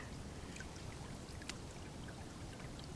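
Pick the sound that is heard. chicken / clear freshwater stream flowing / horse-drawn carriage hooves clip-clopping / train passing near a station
clear freshwater stream flowing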